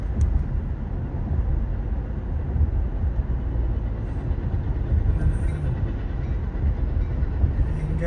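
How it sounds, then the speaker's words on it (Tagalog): A train rolls along a railroad track near Hoffman Estates, Illinois, a steady, loud rumble of wheels and cars that holds for several seconds with no voices. "Ayan guys, may train na"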